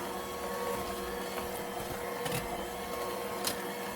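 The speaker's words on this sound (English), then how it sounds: "I'm going to use my hand mixer" An electric hand mixer whirs steadily through carrot cake batter, a continuous close motor drone with small fluctuations as the beaters move.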